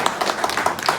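Hands clap steadily and fairly loudly through a brief burst from an audience at a gathering honouring Netra Bahadur Baniya, with no voices over it.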